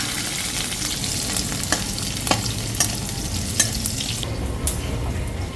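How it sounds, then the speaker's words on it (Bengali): Chopped garlic fries in a little oil in a pan, a close steady sizzle punctuated by several sharp spatula scrapes and stirring clicks, no voices. "রসুনটাকে আমি প্রথমেই এরকম একটু লালচে করে ভেজে নিলাম"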